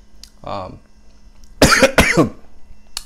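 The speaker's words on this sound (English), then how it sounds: "this cough, I need to do something about that" A person coughs a few times up close, a brief throaty sound at first followed by two harsh, loud coughs.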